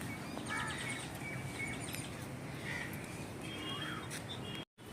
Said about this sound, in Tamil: இந்த குயில் ஏன் இப்படி கூவுது எனக்கு தெரியல